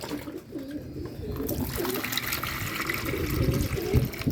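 Racing pigeons coo in low, soft repeated phrases, likely near a loft during weekly training, with steady background rustle and no speech.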